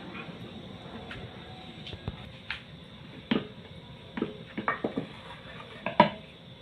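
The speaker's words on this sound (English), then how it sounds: "we don't want our ugali to burn, so we'll keep stirring it" Thick ugali made from maize flour is stirred in a pot, with soft scrapes and scattered sharp knocks of the spoon against the pot over a low steady background.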